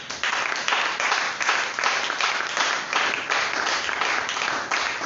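A church congregation claps and applauds in praise of the Lord, a steady dense wash of many hands that lasts throughout at an even level with a faint rhythmic pulse.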